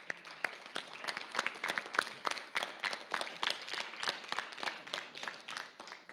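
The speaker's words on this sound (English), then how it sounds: "let's give him a good round of applause" An audience at a school sports awards ceremony gives a round of applause, a steady, fairly dense clapping that continues for several seconds at moderate loudness.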